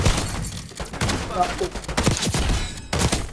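Shotgun blasts in the Black Ops 6 shooter, dense bursts of gunfire with sharp thuds amid game noise, while players exclaim over the top.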